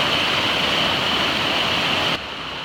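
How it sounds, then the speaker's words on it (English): A swollen creek rushes loudly and continuously over a plank footbridge, a steady close roar of flowing water with no talk, dropping slightly in level near the end. "This water is just about overflowing this bridge right here."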